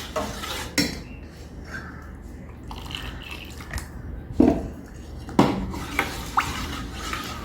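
A herbal soap mixture is stirred by hand in a vessel, giving soft scraping and several sharp knocks and clinks against the container at irregular intervals. Nobody speaks.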